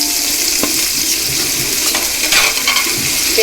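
Onions sauté in a pan for paneer biryani, producing a loud continuous sizzle with scattered metallic clinks and scrapes from stirring, and no one speaking.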